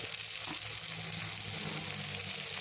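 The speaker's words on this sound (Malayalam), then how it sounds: "ഇതിപ്പോൾ ഇതെല്ലാം തേച്ച് വെച്ചിട്ട് നമ്മൾ ഫ്രൈ ആക്കുകയാണ്. ഫ്രൈ ആയി വരുന്നുണ്ട്." Spice-rubbed vaala (ribbonfish) fries in a pan, giving a continuous close sizzle with a bright, steady hiss and soft bubbling underneath, no speech.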